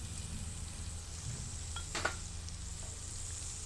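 Ginger, garlic and green chilli frying in a pan for vegetable korma, a steady close sizzle with a faint stir or scrape partway through.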